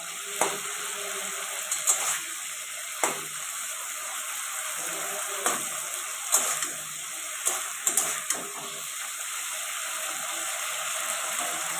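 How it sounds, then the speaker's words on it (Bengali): Soft, steady sizzle of shrimp frying lightly in oil, with occasional sharp clicks and clinks of a utensil against the pan. "হালকা করে এখানে চিংড়ি মাছটা ভেজে নেব"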